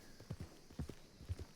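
Horse hooves clip-clop in the RedM video game during a reining event, a faint, evenly spaced run of soft thuds heard alone.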